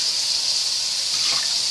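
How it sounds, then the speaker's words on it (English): Water pours steadily into a cooking pot as it is measured out for white rice, a continuous close hiss and splash with no pause. "Now, I'm going to put 5 cups of water"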